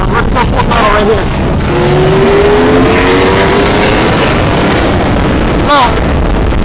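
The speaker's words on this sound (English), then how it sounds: "Let's go full throttle right here." A 2022 Ducati V4S motorcycle at full throttle, a loud sustained engine roar with rising pitch as it accelerates, plus wind rush and a sharp burst near the end.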